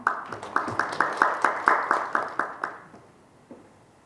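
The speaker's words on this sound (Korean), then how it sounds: "큰 박수 부탁드립니다." About a dozen loud, evenly spaced claps ring out in unison from the audience at a forum on the content IP industry, then the rhythm slows and dies away into near silence.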